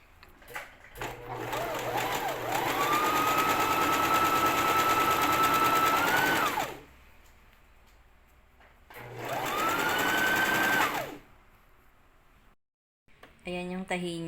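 Brother JV1400 portable sewing machine running stitch number 14, two bursts of steady whirring motor with a rising pitch at each start, separated by a pause, with brief talk at the end.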